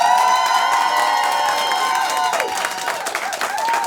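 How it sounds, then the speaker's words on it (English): A comedy club audience claps and cheers for comedian Matty Ross, a dense, steady roar of whoops and applause filling the whole stretch. "Please clap and cheer if you thought Matty Ross won."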